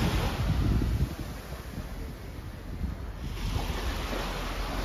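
Surf rolls steadily onto the shore at Chaweng Beach on Koh Samui, a continuous wash of breaking waves with wind buffeting the microphone and no voices.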